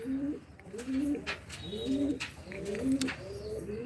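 Pigeons coo from rooftops in repeated, rhythmic phrases about once a second, close and clear, with faint chirps and light background noise between calls.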